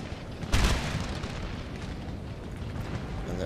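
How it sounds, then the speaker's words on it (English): Cannon fire in the Napoleon: Total War strategy game, one deep boom early on over a steady rumbling battle din, with no talk. "Let's get the cannons firing down there as well."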